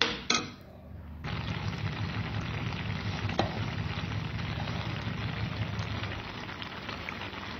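Garlic spinach (palak) in a hot pan gives a loud, steady sizzle and crackle that flares briefly as cream goes in, then settles into a continuous hiss with no voices.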